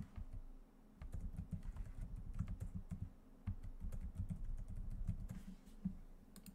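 A password is typed on a computer keyboard: quiet, close key clicks come in irregular bursts with brief pauses and a faint low background hum, and nobody talks.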